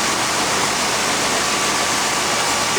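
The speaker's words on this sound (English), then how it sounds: "Hit the start button, we're grinding another block." A CB1500E machine grinds a block with a steady, dense wash of broadband noise, loud and unbroken throughout with no pauses or voices.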